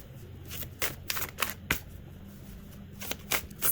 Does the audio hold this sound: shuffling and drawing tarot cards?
yes